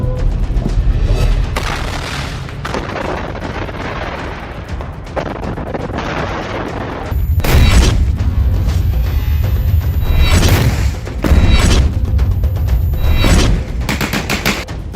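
Gunfire and explosions ring out during fighting in Gaza, a dense, loud clatter of shots with heavy booming blasts bursting in repeatedly, continuous throughout and without talk.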